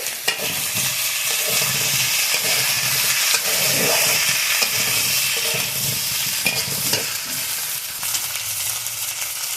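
Elephant foot yam frying with bay leaves in hot oil, a steady loud sizzle with the scrape and clatter of stirring throughout, no voices.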